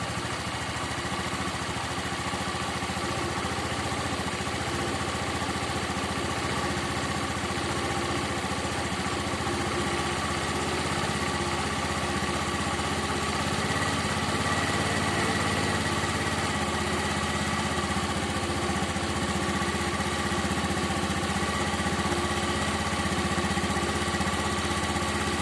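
A Honda Beat FI motorcycle engine idles steadily during a throttle body adjustment, a continuous even hum with no talk over it.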